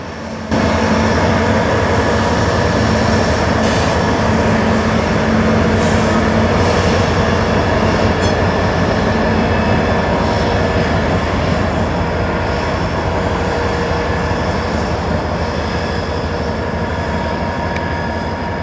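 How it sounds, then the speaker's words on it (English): A CSX trash train led by ET-44AH and GP-40-2 locomotives rolls past on the C&O line in a loud, continuous rumble of engines and rail cars, steady throughout. "So here's another shot of the trash train as it made its way back onto the C&O line."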